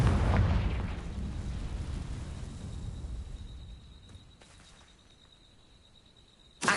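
Confringo fire spell exploding in Hogwarts Legacy, a deep booming blast that fades into a low rumble and quiet tail, ending with a sudden short burst.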